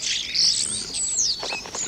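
Starlings chirp and squeal in quick, bright bursts around pig farm feeders, several overlapping calls close by over faint background rustle.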